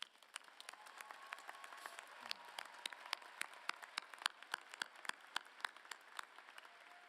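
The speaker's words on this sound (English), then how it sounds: "let's give your support systems and your families and loved ones a well-earned round of applause" Graduation commencement audience applauding for families and support systems, a steady field of distinct claps building in density, moderately distant and reverberant in a large ceremony hall.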